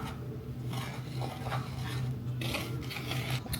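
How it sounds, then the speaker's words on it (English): Butter being stirred into honey butter cornbread batter, a soft continuous scraping and rubbing of a utensil against the bowl, close and steady with faint clinks, no talking. "let's mix that butter in"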